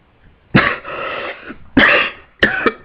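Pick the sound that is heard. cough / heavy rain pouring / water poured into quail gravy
cough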